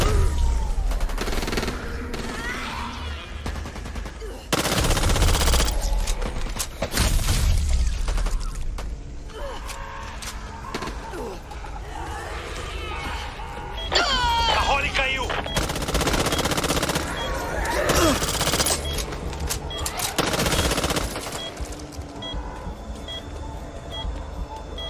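Gunfire in the zombie shooter video game Back 4 Blood: repeated bursts of automatic fire and single shots with mechanical clicks, sustained and fairly loud over game sound effects.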